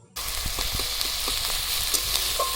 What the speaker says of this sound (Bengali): এবার রসুন বাটাটা দিয়ে দিচ্ছি আদা বাটাটা দিয়ে দিলাম পেঁয়াজ বাটাটাও দিয়ে দিলাম এবার সব কিছু দিয়ে আমি একটু নেড়ে চেড়ে নেবো